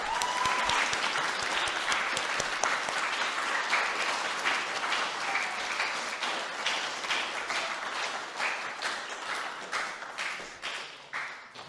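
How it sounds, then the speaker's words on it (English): An audience at a student presentation event applauds steadily, a dense wash of many hands clapping at fairly close range. The sound stays full and loud, then thins slightly toward the end. "can I just get a hand of applause for everyone's advisors?"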